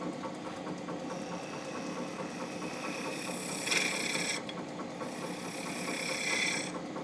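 A wood lathe spins as a tool cuts a sloping detail up against a bead, giving a continuous motor hum with a rough, chattering scrape. Higher hissy cutting bursts rise and fall twice.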